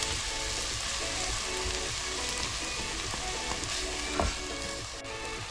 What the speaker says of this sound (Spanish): Y ahí le dejamos hasta que el tomate esté bien, bien, bien, bien frito,